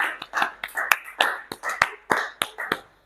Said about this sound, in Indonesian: Tepuk tangan untuk mereka semua.